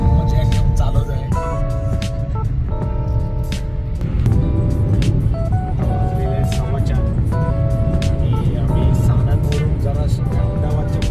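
Steady car cabin drone from a vehicle cruising along a six-lane highway near Sanand past Ahmedabad, low road rumble constant throughout while people chat inside and music plays.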